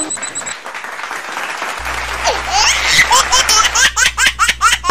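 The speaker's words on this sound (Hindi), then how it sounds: "अरे सब लोग इसके लिए तालियां बजाओ" Cartoon comedy scene with mixed clapping and laughter, a burst of applause building alongside giggles and belly laughs, growing louder and choppier toward the end.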